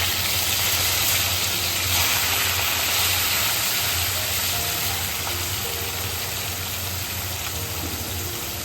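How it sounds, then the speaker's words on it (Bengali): Pieces of fish and eggplant fry in an oiled pan with onion, garlic and chili, giving a steady, loud, close sizzle that continues evenly throughout with no talking. "এখন ভেজে নিচ্ছি"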